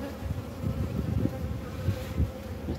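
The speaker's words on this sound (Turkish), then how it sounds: "Şurada da eşek arısı var." Hornet buzzing close by near a beehive, a steady continuous drone of wings at moderate level with no voices.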